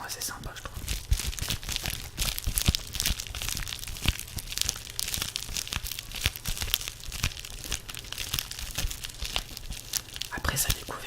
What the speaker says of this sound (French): Un petit bout de polyester avec du scotch.